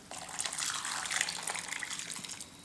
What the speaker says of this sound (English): I'm going to add in my boiling water.